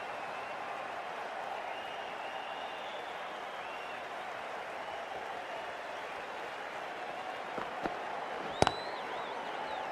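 Stadium crowd applause from the cricket video game Cricket 24, a steady broad wash of clapping and murmur at a constant level for the whole stretch, with a couple of brief sharp knocks near the end.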